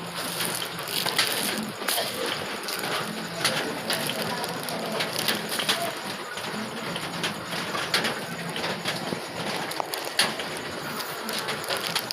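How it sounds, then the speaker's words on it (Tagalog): Heavy rain in Bataan drumming steadily, a dense continuous patter with occasional sharper clatters, fairly loud throughout with no clear voices. "Malakas pa rin ang ulan."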